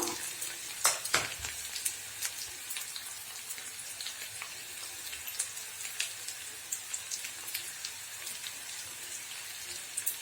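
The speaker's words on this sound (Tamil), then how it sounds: "அதுலேயே நம்ம பாவக்காய் போட்டு நல்லா வதக்கி எடுத்துக்கலாம்" Bitter gourd and onion sauté in oil in a pan for tamarind curry, giving a dense, continuous crackle like light rain. Occasional sharper pops and stirring clicks sit on top, with no talking.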